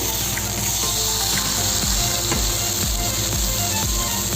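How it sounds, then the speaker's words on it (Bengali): Lemon-seasoned chicken breast grilling on a grill pan gives a steady, close, dense sizzle that runs unbroken throughout, with faint scattered ticks and pops and no voices. "এইভাবে আমার চিকেনটা গ্রিল হচ্ছে, আস্তে আস্তে আমার এটা গ্রিল হতে আছে"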